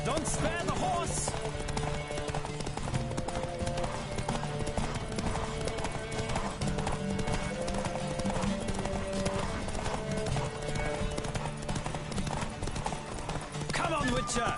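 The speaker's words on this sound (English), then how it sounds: "Giddy up. Go, go." Steady pounding hooves of a galloping horse in The Witcher 3: Wild Hunt, a fast continuous rhythm heard up close, while people shout and talk over it.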